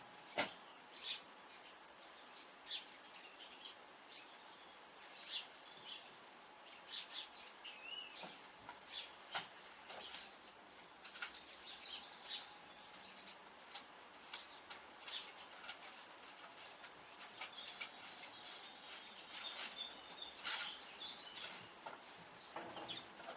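Small birds chirp and tweet faintly across an outdoor allotment in scattered short bursts, distant and quiet against a soft background hush.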